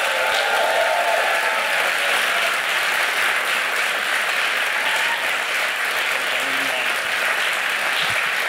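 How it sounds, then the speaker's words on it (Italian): Studio audience gives a big round of applause welcoming Alessandro Cattelan onto the Tintoria show, steady dense clapping at full volume throughout without breaks. "un grande applauso per Alessandro Cattelan"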